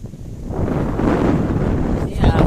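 Steady cold wind rushes and buffets the microphone in an open farm field at sowing time, a continuous blustery roar with a stronger gust near the end.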